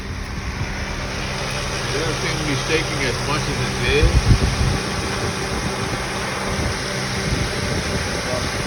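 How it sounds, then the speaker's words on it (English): A 2005 Acura TL engine idles steadily after a long run, a low continuous hum and whir from close by, with someone talking over it and a brief louder bump midway. "I've been running the engine for over 30 minutes now"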